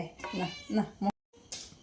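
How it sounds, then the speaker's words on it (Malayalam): A cat meows several times in quick succession, close and clear, with a brief silence before a softer sound follows. "മീൻ മുറിക്കുമ്പോൾ എപ്പോൾ എൻ്റെ പൂച്ച ഓടി വരും"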